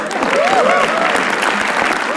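Crowd at a comedy roast show applauds for a comedian in a brief, dense burst, with whoops and cheering voices rising over the clapping.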